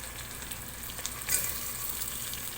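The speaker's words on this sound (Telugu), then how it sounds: "టమాటా ముక్కలు, పుదీనా, కొత్తిమీర ఇవన్నీ వేసుకొని దోరగా వేయించుకోవాలి." Tomato pieces, mint and coriander frying in a pan for butter pulao, a steady soft sizzle with a brief louder crackle midway, close and alone without talk.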